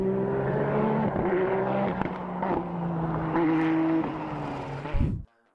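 The Suzuki Escudo race car's V6 biturbo engine roars steadily with a sustained, loud note that rises in pitch as it revs, then shifts and cuts off abruptly at the end.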